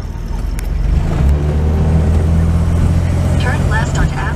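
A 1963 Chevrolet Corvair Monza with its six-cylinder engine drives on city streets, giving a steady low engine drone close by, with people talking over it inside the car.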